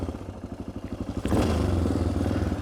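A vintage Yamaha XT enduro engine idles with a rapid, throaty pulse through a loud GPR aftermarket exhaust, then revs up sharply and holds a deep, raspy drone.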